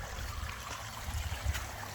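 Water trickles and gurgles steadily from a leaking garden pond waterfall, a continuous close babble with a few small splashes and no speech.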